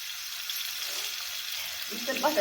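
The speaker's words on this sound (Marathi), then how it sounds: "आणि मग कांदा दिसतोय ठीक आहे वाजतोय" Onion sizzles in a pan over a wood-fired stove, a steady close hiss throughout with a few louder crackles and stirring sounds near the end.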